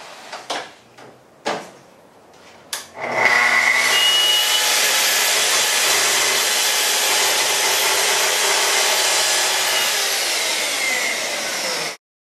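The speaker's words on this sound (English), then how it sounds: "then we'll just kerf off a little bit with the track saw" A Festool TS-55R track saw trims a cabinet door: a few clicks and knocks, then the motor starts and runs as a loud, steady high whine through the cut for about nine seconds before stopping.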